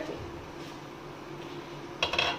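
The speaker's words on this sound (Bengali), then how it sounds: "এবার এটাকে খুলে দেখবো ঢাকনাটাকে" A metal lid comes off a cooking pot of rice with a brief clatter near the end, after a quiet stretch of low kitchen background.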